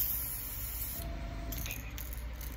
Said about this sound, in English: So, I'm going to turn the airbrush down.